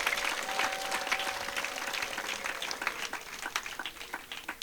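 A church congregation at an ADEPR service applauds together, a moderately distant, even patter of many hands clapping that continues steadily and thins slightly toward the end.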